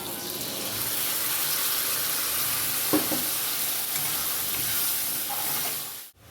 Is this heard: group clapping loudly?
no